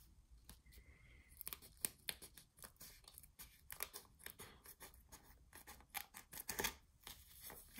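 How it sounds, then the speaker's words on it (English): Scissors snip through the sewn edge of a paper mini shaker album, a quiet series of irregular close cuts with no talking. "so now I'm just going to cut that part off"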